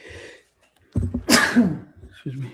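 A single loud, close sneeze from a man, followed by brief talk.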